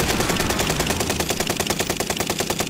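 Sustained automatic gunfire in Call of Duty: Modern Warfare on the Fortune's Keep map, a rapid, evenly spaced burst of loud close shots rattling on for several seconds without pause.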